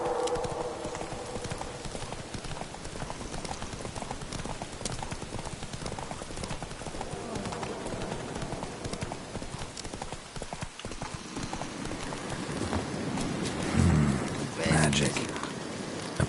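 Horse hooves clip-clop steadily as Roach trots through The Witcher 3, a continuous even gait with a brief whinny near the end, heard alongside game ambience and some speech.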